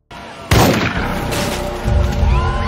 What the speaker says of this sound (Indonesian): terdengar tembakan